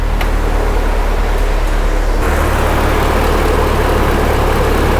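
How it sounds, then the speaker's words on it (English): A car engine runs at a steady idle with its cooling fans switched on, a loud low rumble and whooshing fan noise that shifts and thickens partway through. "I think the engine's getting a little quieter."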